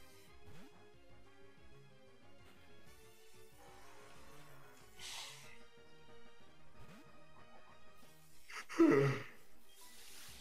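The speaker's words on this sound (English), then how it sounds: "It's the most random yawn" A person gives a long, breathy yawn near the end, rising loudly over quiet video-game music during a Pokémon play session, with faint voices nearby.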